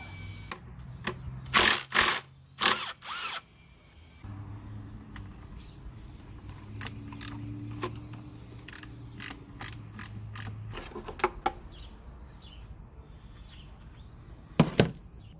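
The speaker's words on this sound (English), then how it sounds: "undo all the bolts" A hand ratchet undoes the bolts on a 2005 Ford Escape 3.0 L engine, with rapid clicking bursts and pauses between them over a low steady hum, close and fairly loud.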